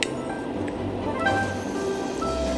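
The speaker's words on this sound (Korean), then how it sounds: "마늘 1스푼 넣어줄게요." A spoon clinks lightly against a pot as a spoonful of garlic goes into a simmering squid stew with dried shrimp, with soft scraping and faint bubbling underneath.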